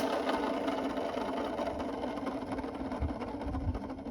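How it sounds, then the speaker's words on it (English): Worn-out bearings whine in a car alternator as it runs on an ASV RT235, a steady buzzing, grinding mechanical drone close up with constant loudness throughout and no talk. "But the bearings in this thing are trash."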